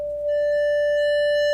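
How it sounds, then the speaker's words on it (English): A Waldorf Blofeld synthesizer's self-oscillating filter rings out as a pure, steady sine-like tone, loud and sustained, picking up faint harmonic overtones just after it starts and holding unchanged to the end, with no voice. "It's the purest form of sine wave you can generate, self-oscillating filter."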